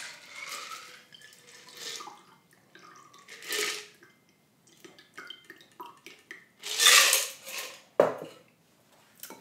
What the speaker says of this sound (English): I'll pour it into the glass.